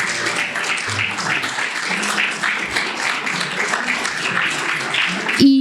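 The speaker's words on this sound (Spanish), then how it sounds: "Esas palmas que sean para el Señor" A church congregation claps together, a dense sustained wash of applause filling the room at strong volume, with some voices mixed in underneath.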